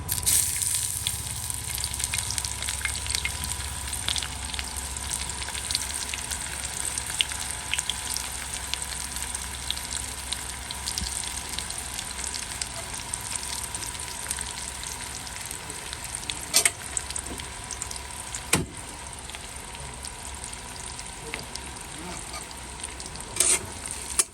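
Chopped onion fries in a pan with a steady, close sizzle and crackle, a few louder clicks of stirring breaking through now and then.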